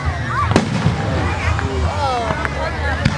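Fireworks show at Rosemead Park exploding in the sky: several sharp booms spaced apart and crackling whistles rising between them, heard amid excited crowd chatter nearby.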